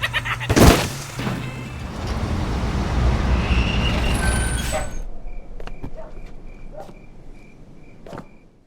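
A truck brakes hard in a film scene as a driver swerves to avoid a crash: a sharp loud thump, then a sustained roaring hiss of air brakes and road noise that cuts off abruptly into quiet chirping.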